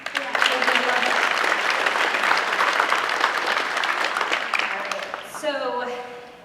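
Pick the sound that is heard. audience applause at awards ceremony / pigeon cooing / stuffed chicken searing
audience applause at awards ceremony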